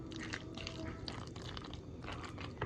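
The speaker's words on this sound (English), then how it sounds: "I gotta pour more cheese sauce on." Cheese sauce poured onto noodles makes soft wet squishing and dripping sounds, quiet and close, with small irregular splats over a faint background.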